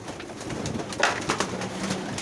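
Pigeons coo softly nearby, a few low throaty calls over a quiet background.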